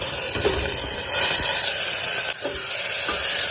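Chicken sizzles in hot mustard oil with chopped onion, making a steady, loud hiss of frying that runs throughout, with a few faint clinks over it.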